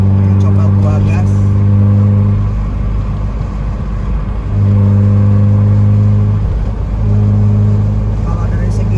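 A 1991 BMW E30 with the M40 engine accelerates on a toll road, its loud cabin drone rising and falling through gear changes while someone speaks over it.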